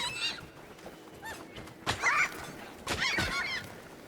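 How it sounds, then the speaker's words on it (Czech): Aggressive birds honk and squawk in the video game REANIMAL, a few separate harsh calls that come in bursts with thumps between them, moderately loud with no speech. "Jaký agresivní ptáci."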